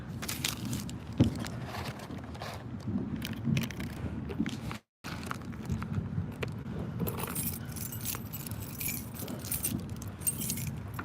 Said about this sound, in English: Hold on, I gotta get the keys.